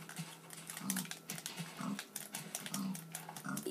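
Pig in the Minecraft video game, a series of short, low grunting oinks repeating at roughly one-second intervals, alongside soft clicking like keyboard or mouse taps, with no talk.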